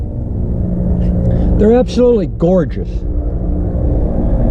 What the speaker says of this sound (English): Sorry about the plane flying over.